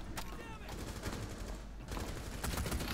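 Gunfire in Rainbow Six Siege, several rapid bursts of shots with sharp cracks separated by short gaps, close and loud.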